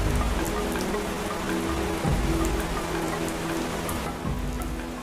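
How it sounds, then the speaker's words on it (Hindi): Steady rain falls across the African savanna at the onset of the wet season, a dense, even hiss of drops on the ground with a faint low rumble beneath, continuous and close, with no voices. "ये बरसात की शुरुआत है।"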